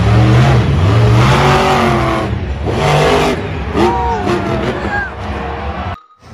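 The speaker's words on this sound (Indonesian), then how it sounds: "ini jeep off-road" An off-road jeep engine revs and accelerates loudly up close, its pitch rising and falling across a few surges before cutting out abruptly.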